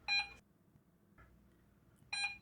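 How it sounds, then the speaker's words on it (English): A dog whistle device gives short, bright electronic beep bursts, with a pause and a faint blip between them, the beeps repeating on a held button. "Holding the button for a second or two activates a repeating tone."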